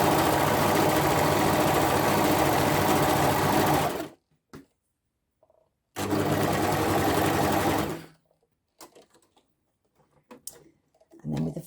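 Sewing machine running at steady speed to stitch a thread chain, with a loud continuous close whirring for about four seconds, a short stop, another run of about two seconds, then quiet clicks and handling.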